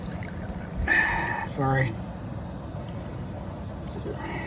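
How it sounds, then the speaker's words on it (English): Gasoline is poured into the tank of a 425B camp stove, giving a soft, close, trickling pour with a couple of louder gurgles. A voice speaks briefly. "Let's put some gas in here."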